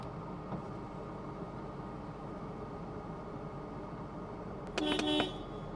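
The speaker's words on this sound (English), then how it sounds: "Horn works well." A 1980 Mercedes-Benz 450 SEL sounds its horn in one short, loud blast near the end, after a quiet stretch of idle background.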